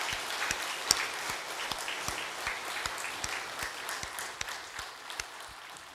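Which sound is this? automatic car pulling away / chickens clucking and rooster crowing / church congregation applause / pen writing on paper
church congregation applause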